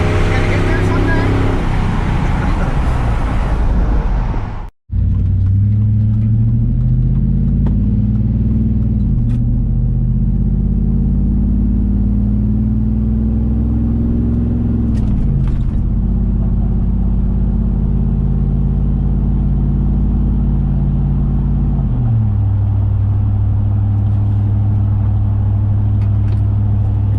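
A 2004 Chevrolet Silverado with a 5.3L V8, longtube headers and a Borla XR-1 muffler cruising at steady speed, a loud continuous low exhaust drone with a small pitch shift, after a brief burst of louder revving at the start.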